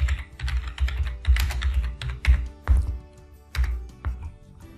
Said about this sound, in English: This is where you type your search phrase.